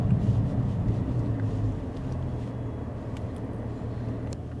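A 400 hp Mercedes C43 AMG in Sport Plus mode on a wet road, its engine rumbling low and steady with a lumpy, throbbing note that settles into a smoother drone, alongside road and tyre hiss.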